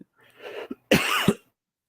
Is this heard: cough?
yes